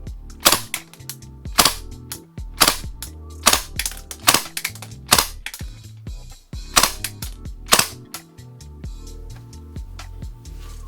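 Kingdom Technology Tec-9 gas blowback airsoft submachine gun firing short bursts, sharp loud cracking pops in quick clusters of two or three, repeating steadily over several seconds with a ringing tail and no talk.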